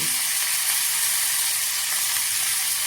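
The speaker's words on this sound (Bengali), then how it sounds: "আদা বাটাটাকে তরকারির সঙ্গে একটু আমি কষিয়ে নেব।" Ginger paste frying together with a vegetable curry for sukto gives a steady, loud, close hiss of sizzling oil with no break.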